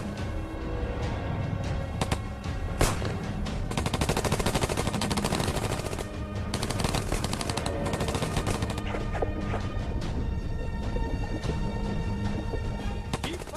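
Rapid bursts of machine-gun and rifle fire crackle continuously over the water at prisoners, dense overlapping shots with sharper cracks standing out, loud and unbroken for the whole stretch.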